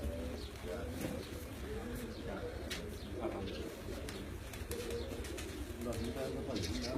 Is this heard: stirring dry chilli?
no